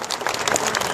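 Crowd applause at a speech gathering in Bidar greeting a speaker, a short burst of dense clapping from many hands, loud and close.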